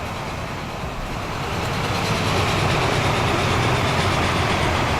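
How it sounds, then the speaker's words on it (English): A train rumbles steadily and grows louder as it pulls into a station in the video game Transport Fever, with a continuous low engine drone and faint rail clatter. "Oh look, there's one of the trains coming in."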